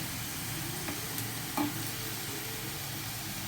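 Khawas vadi mixture with cardamom and sugar reduces in a pan, a soft steady sizzle and simmer with a single faint scrape of stirring partway through.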